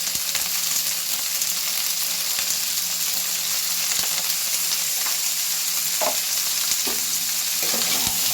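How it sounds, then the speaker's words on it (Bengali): Vegetables hiss and crackle loudly in hot oil while a utensil stirs them, with occasional scraping taps, close up and unbroken by speech. "আমি এটা তেলেতে একটু নাড়াচাড়া করে প্রত্যেকটা আনাজকে একটু মজিয়ে নেওয়া"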